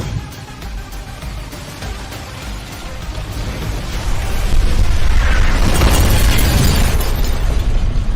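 An explosion in the trailer for the tank battle game Age of Tanks is a loud, sustained, rumbling blast that swells midway and then rolls on thickly to the end.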